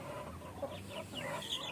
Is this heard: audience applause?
no